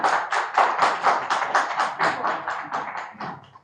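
Audience at a film press meet applauding in a dense burst of clapping as actor Posani Krishna Murali comes on stage, close and steady before gradually thinning out.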